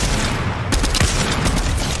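Gunfire in the video game Fortnite, a rapid burst of loud overlapping shots packed into about two seconds.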